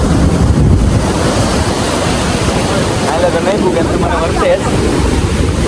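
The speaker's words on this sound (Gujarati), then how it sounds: "એ પાણીનો મોજો આવ્યો" Sea waves break and wash ashore with a loud, continuous roar, some wind buffeting the microphone, while people talk nearby.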